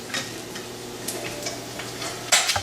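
Eggs frying in a pan on a gas stove give a close, steady crackling sizzle with light clicks, then a sharper scrape-like burst near the end.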